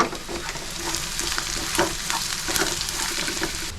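Fried onion in a pan with Kashmiri red chili powder and turmeric added sizzles loudly and steadily, with stirring scrapes and occasional sharper crackles. No one speaks.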